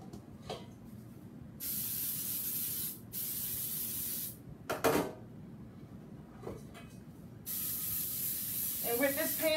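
Cooking spray hisses onto cake pans for a red velvet cake in a home kitchen, several long close bursts separated by pauses, with light clinks and handling noises between them.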